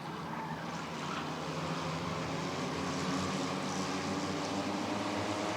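A field of race cars roars around an oval track at Rockford Speedway in a dense, continuous engine drone, fairly distant and steady, with no voices.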